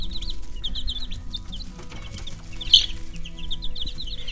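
A blue Cochin hen clucks in soft, repeated bursts close by, with other chickens making faint chirps and murmurs in the background.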